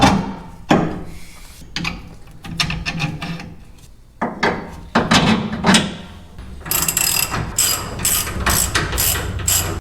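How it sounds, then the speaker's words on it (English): Shackle bolts on the rear leaf spring of a Dodge Dakota being fitted during a lowering kit install: repeated close metallic rubbing, ratcheting and clunks in irregular bursts, with a denser run of sharp ratchet clicks toward the end. "right now, I'm just gonna bolt up our Shackles"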